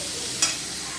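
Tempering spices hit hot oil for dal, giving a steady hiss and one brief, sharper sizzling burst partway through, heard alone.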